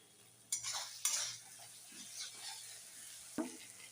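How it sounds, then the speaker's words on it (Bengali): Spices with a little sugar stirred in a frying pan for aloo fulkopi, a spoon scraping in a few brisk strokes with sharp knocks near the start and end, over a soft, steady sizzle. "একটু ভালো করে নাড়তে থাকি, নাহলে পুড়ে যাবে।"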